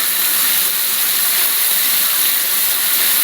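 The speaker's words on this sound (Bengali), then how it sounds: "তেলটা গরম হয়ে গেছে বলে আমি পমফ্রেট মাছগুলো ওর মধ্যে দিয়ে দিচ্ছি" Pomfret fish fry in hot mustard oil in a pan, a loud, dense, steady sizzle that holds without a break for the whole few seconds, close up and with no talking.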